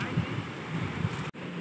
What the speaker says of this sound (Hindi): बहुत सुहाना मौसम है, हवा चल रही है बढ़िया।